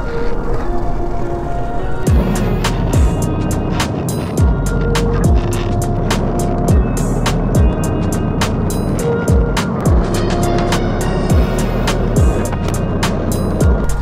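A skateboard carrying a GoPro rolls along at close range with a continuous low rumble, broken by regular sharp clacks as the wheels cross pavement joints at a steady rhythm.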